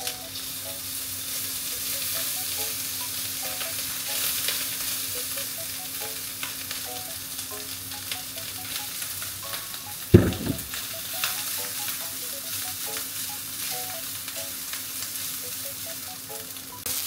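Fried rice sizzles steadily in a hot pan with a soft continuous crackle, broken by one sharp scrape or clatter of stirring near the middle, then the sizzle carries on alone.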